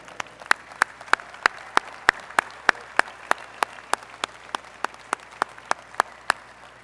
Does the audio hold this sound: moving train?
no